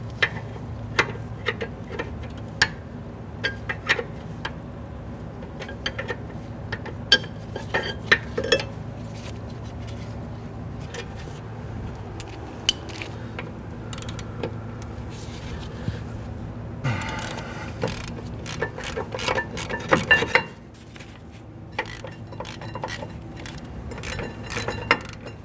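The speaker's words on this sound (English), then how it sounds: "Now I'm using a box wrench or an open end wrench to go ahead and get this out due to clearance." A box wrench clicks and ratchets on a parking brake bolt of a 2011-2017 Nissan Quest, a series of sharp metallic ticks and clinks spread irregularly over a low steady hum, with a busier burst of clatter toward the end.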